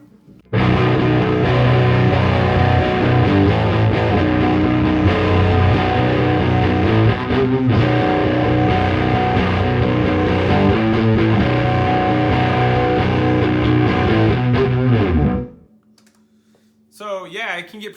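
An electric guitar driven through a Westwood overdrive pedal plays a dense, gritty, sustained passage for about fifteen seconds, loud and continuous, then cuts off abruptly into near silence.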